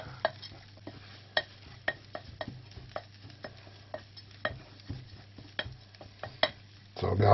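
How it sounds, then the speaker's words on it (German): Rolled oats toast in a pot while a spoon stirs them, with a low sizzle underneath and sharp scraping clacks against the pot at an irregular pace, close and fairly quiet. "Nachdem die Haferflocken jetzt angeröstet sind"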